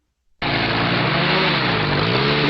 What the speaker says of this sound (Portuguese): Esse é o barulho dos Panzers.